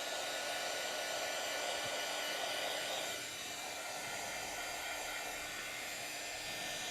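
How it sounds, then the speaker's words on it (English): Hot air from a heat embossing tool blows over embossing powder on a handmade card, a steady close whooshing roar that holds throughout and drops slightly in level partway. "Okay, I'm going to go ahead and heat emboss this."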